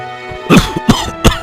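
An old man coughs loudly and harshly, three rough hacks in quick succession, very close and with no speech.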